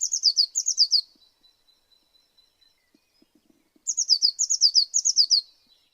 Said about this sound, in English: blue tit